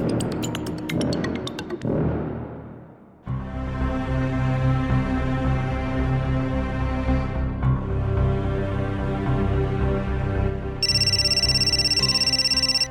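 A mobile phone ringtone plays loudly and steadily for several seconds after a short burst of other sound, with a high beeping tone near the end, no talking over it.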